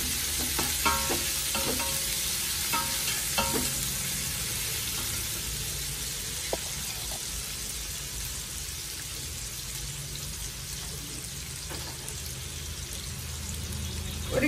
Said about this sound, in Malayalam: സവാള 1 എണ്ണം ഇട്ട് കൊടുക്കാം. ഇത് വലുതായിട്ട് ചുവന്നു പോകരുത്,